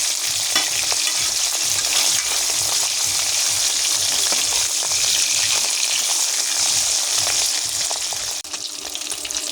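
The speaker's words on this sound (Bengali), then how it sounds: "ইলিশ মাছে খুব বেশি ভাজতে হয় না, হালকা ভেজে নিলেই হয়" Hilsa fish frying lightly in hot oil in a pan, a steady close sizzle and crackle running unbroken throughout, with no speech.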